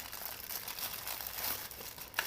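Plastic packaging around an inexpensive handheld spray-can trigger handle is crinkled and pulled open: a continuous close, papery crackle with a sharper tearing snap just before the end.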